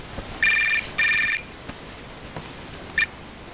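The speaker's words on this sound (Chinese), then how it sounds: "电话。" An indoor telephone rings in a drama scene: two bright electronic ring bursts in quick succession, then a brief third chirp, clear against a quiet room.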